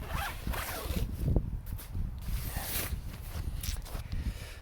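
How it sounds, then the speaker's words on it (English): A zip being opened on a Naturehike Cloud Up 1 tent, a close, rasping pull that runs steadily through the clip and has a brief stronger burst early on. "I'll just unzip her here."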